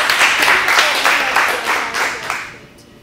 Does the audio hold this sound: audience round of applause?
yes